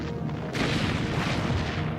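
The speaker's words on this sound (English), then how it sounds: "The first shells strike the Hood's fused torpedoes at midships, and she explodes." A huge explosion tears through the battlecruiser Hood as shells strike her midships torpedoes: a dense, roaring blast rumbles continuously for two seconds, loud and heavy with no voices.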